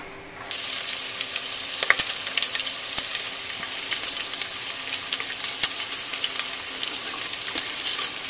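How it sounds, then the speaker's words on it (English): Two strips of bacon sizzling in a pan as the base for a lamb stew, a steady close hiss dotted with sharp crackles and pops that begins abruptly and carries on evenly throughout, with no voices. "we're going to cook our 2 strips of bacon"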